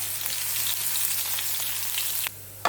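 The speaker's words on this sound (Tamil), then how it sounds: "கடுகு வெடிக்க ஆரம்பிச்சிருச்சு." Mustard seeds, urad dal, cumin and crushed garlic sizzle in hot oil for an ivy gourd stir fry, a close, steady crackling fry with small pops and a brief drop in intensity near the end before it resumes.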